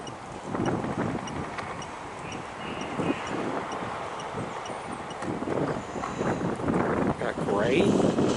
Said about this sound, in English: There's a big bunch of wind starting to come through